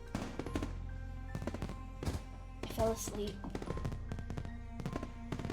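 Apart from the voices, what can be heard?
fireworks in Katawa Shoujo video game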